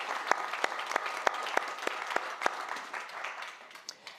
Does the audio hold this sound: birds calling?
no